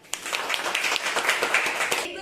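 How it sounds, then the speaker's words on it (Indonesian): A classroom group claps together in a dense, even patter for about two seconds, close and fairly loud, with voices mixed in. "Oke, kita berikan tepuk tangan."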